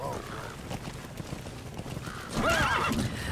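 A horse neighs and whinnies over steady clip-clop hoofbeats in the video game Metal Gear Solid V: The Phantom Pain, with a louder whinny near the end and faint voices underneath.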